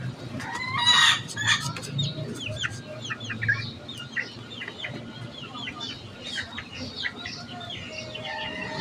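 Chicks peep in a constant, busy chorus of high chirps nearby, with louder clucking from a hen or rooster early on.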